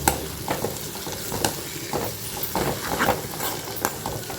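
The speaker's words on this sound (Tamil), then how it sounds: "இப்போ இது நல்லா வதங்கிட்டு இருக்குது" Prawns, chopped chillies and other ingredients for prawn thokku sizzle steadily in a hot pan while a utensil stirs and scrapes them, with soft periodic clatters.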